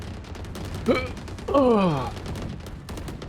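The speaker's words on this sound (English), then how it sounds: "I shot my wingman" Steady, rapid gunshots crack in the CS:GO video game, a regular string of sharp reports running throughout, while a player lets out a short groan partway through.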